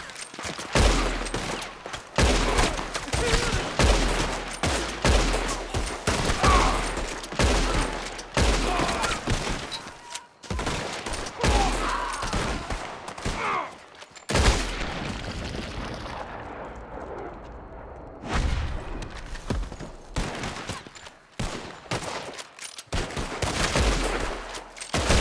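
Sustained volleys of gunfire from rifles and repeaters while shooting at attacking enemies in Red Dead Redemption 2, with dense, rapid overlapping shots, brief lulls and a short quieter stretch before the firing resumes.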